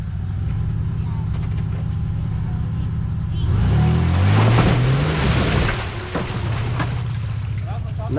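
An off-road Toyota truck's engine revs hard in deep snow at night on the Eagle Lakes trail, rising and falling through a strained climb mid-clip over a steady idle rumble, with wind noise throughout.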